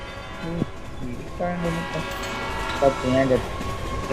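A train in a Roblox game rolls past with a sustained rumble, and its horn sounds in short tonal blasts near the start and again toward the end, mixed with the game's background.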